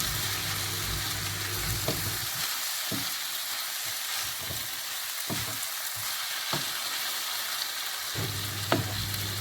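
Tuna filling sizzling in a frying pan for stuffed bread, a loud constant fry with rhythmic spatula strokes scraping through it every second or so, close up, without talk.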